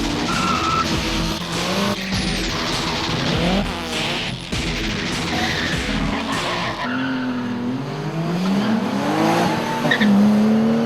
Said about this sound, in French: Des drags se présentent au départ de la piste pour assurer quelques runs d'anthologie.